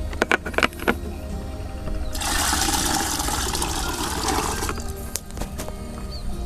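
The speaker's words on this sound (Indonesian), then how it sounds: "Ini tinggal dipenuhi saja airnya hingga 16 liter" Water pours steadily into a 16-liter sprayer tank for chili plant nutrients, a loud continuous rushing fill in the middle with a few knocks and handling clunks before and after.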